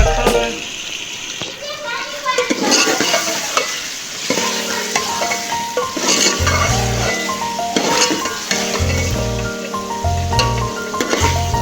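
Potatoes and chicken cooking in a pot at home, with stirring and frying sizzle as water goes in, a steady close clatter under a low hum and some children's voices in the background.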